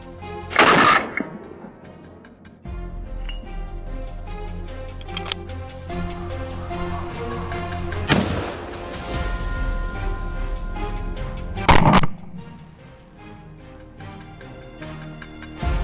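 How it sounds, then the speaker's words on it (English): Several sharp, loud gunshot bursts ring out at intervals over a steady rumbling background, with scattered quieter cracks between them, during a wild boar hunt in a cornfield. "A burst of gunfire rang out, cutting off its escape."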